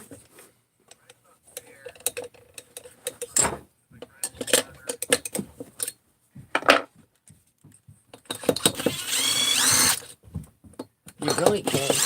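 A rotary grinder cuts at the cylinder transfer ports of a 660 engine in short, intermittent bursts of high whine and scraping, heaviest and longest near the end, with quiet gaps between.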